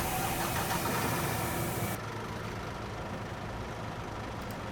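Bus engine in the TheBus driving game, running at a steady mid-pitched idle that drops slightly in level partway through, continuous with no voices.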